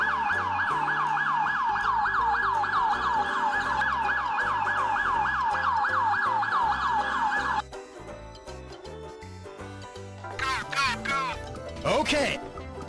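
A loud, close police car siren wails in rapid repeating sweeps for several seconds, then cuts off abruptly, leaving traffic noise and a few quieter siren chirps.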